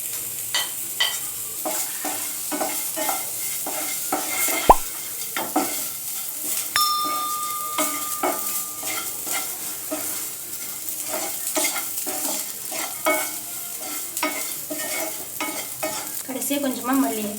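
Idli pieces are tossed with podi and salt in a hot pan under a low sizzle. A spatula scrapes and taps against the metal in a busy, uneven rhythm, close up, with one sharp clank and no talking.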